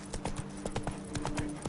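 Roach the horse trots in The Witcher 3, hooves clip-clopping in a quick, even rhythm of sharp close knocks over a low steady hum, with no talk.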